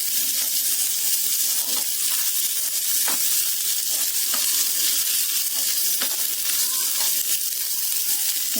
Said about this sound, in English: Just saute this for a minute.